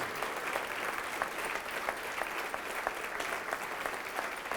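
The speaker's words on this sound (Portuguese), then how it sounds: "E vamos aplaudir mais ao Senhor Jesus." Church congregation applauding during a worship service, continuous crowd clapping with some sharper individual claps standing out, held at an even level.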